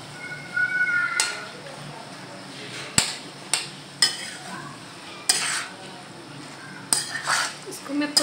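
A spoon stirs and scrapes desi-style macaroni pasta in a pan, giving sharp metallic clinks and knocks at irregular intervals over a soft, steady background.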